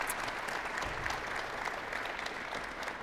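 An audience applauds to welcome a panel at an event on northwestern Ontario's resource economy. The clapping is continuous and fairly soft, as if heard from a distance, and stays even throughout.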